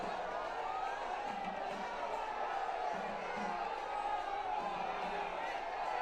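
A large, elated crowd at a roadshow in Kochi, Kerala, makes a continuous, dense roar of cheering and shouting that holds steady throughout, with a voice speaking over it.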